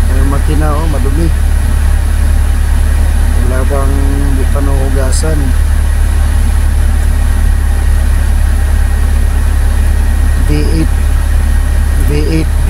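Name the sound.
Mercedes-Benz V8 diesel tractor head engine idling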